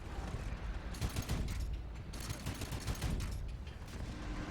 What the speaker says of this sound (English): they're firing just outside of their spawn